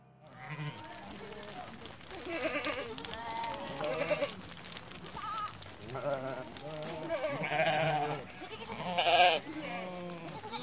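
Sheep bleat repeatedly at a livestock farm, several wavering calls overlapping at close to middle distance with steady farmyard background, some voices faintly mixed in.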